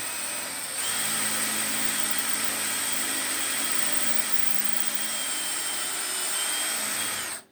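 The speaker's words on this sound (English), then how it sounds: "Drill that straight in there. This will give us a guide hole to follow." A power drill whines steadily at a constant high pitch for several seconds while drilling a guide hole, close by, then stops abruptly.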